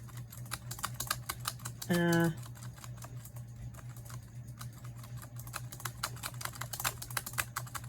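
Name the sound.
typing on a keyboard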